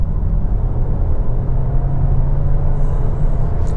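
2025 Volkswagen Taos turbo engine at full throttle in sport mode, a loud steady low rumble and road roar heard from inside the cabin, with a faint whine near the end.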